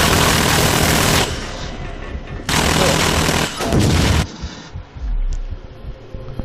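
A heavy machine gun roars in the sci-fi shooter game Dust 514, firing long loud continuous bursts with short pauses between them, close up, with a voice talking under the gunfire.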